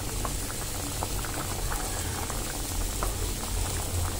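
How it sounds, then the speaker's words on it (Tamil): Kuzhambu curry with potatoes boiling in a pot, a constant dense bubbling and gurgling close by that continues without a break. "குழம்பு நல்லா கொதிச்சுட்டே இருக்கு."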